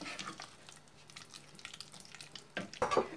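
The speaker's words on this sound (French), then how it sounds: "on va remuer constamment jusqu'à ce que le beurre se mélange au chocolat." Melted chocolate and butter are stirred in a pan over very low heat, giving soft, faint scraping and gentle sizzling strokes with a few louder scrapes near the end, no talk.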